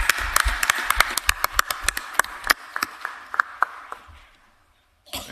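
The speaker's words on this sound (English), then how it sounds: "Give another round of applause" A round of applause at a county commission meeting, a smattering of sharp individual claps that thin out and fade to near silence, followed by a faint sound at the very end.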